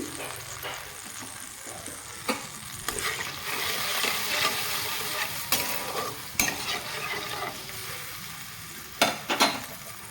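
Boiled jolpai olives simmer with turmeric and salt in a pan, bubbling and sizzling steadily while a spoon knocks and scrapes against the sides in occasional sharp clacks.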